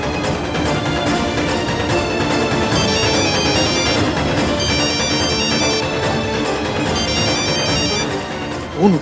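A phone rings on and on without being picked up, a repeating electronic ringtone melody playing loud and continuous with no voices over it.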